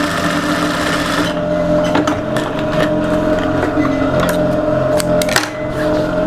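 Sewing machine running steadily while tapering jacket darts, a loud continuous motor hum and rapid stitching chatter close up throughout, with faint ticks toward the end.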